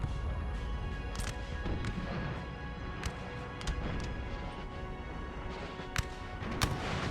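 Cannon fire in the Napoleonic strategy game Napoleon Total War, sharp booming reports at irregular intervals, some near and loud, others softer and distant, over a constant low battlefield rumble.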